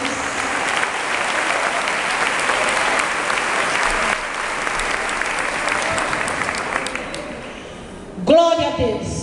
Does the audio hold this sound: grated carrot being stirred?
no